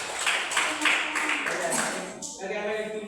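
A classroom of students clapping their hands together in a sustained, busy burst of applause that fades out near the end, close and fairly loud.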